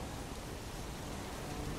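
Steady rain in the video game Heavy Rain, a continuous hiss of falling water filling the whole clip at an even, moderate level with no voices.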